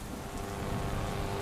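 Heavy rain falls steadily at night, a dense, even hiss of drops on surfaces with a low rumble underneath and no voices.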